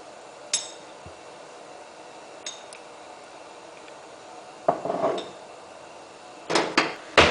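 A spoon clinks and scrapes against a pot while barley soup with beans and herbs is stirred, a few sharp metallic taps scattered over a quiet background, the last ones bunched close together.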